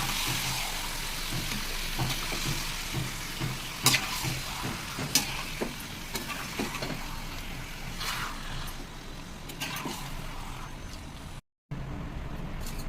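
Steady sizzling of chicken liver frying fills the clip while a utensil occasionally scrapes and stirs in the pan.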